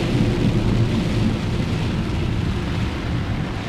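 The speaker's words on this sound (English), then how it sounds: "It's raining again." Rain falling with thunder, a steady, loud, low-heavy rumble and wash of noise that holds nearly constant throughout, with no voices.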